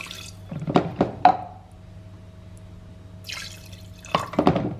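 Cold water poured into a cooking pot for a Naga-style buff curry, landing in a few short splashy bursts near the start and again near the end, separated by a quiet pause.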